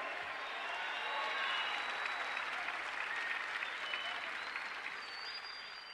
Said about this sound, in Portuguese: Aplauda o Senhor, meu irmão.